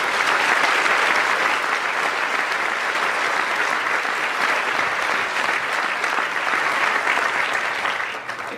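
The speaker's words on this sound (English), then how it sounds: "I'd love to give them a round of applause right now" Sustained, dense applause from a large audience at a school commencement ceremony, steady and loud throughout before easing off at the very end.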